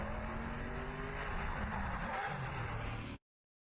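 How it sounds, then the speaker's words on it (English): A race car with a sequential gearbox works its way along a mountain course, the engine a steady loud drone with shifting pitch and gear changes, close by, before the sound cuts off abruptly. "You hear that sequential rolling in Jason Smith's car, Smitty's Custom Auto."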